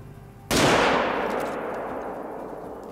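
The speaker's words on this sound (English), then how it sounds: "I am going to take a shot on him." A single loud, close rifle shot from a .300 fired at a buffalo on the savannah in Hunter: Call of the Wild booms out suddenly, then rolls into a long, slowly fading echo.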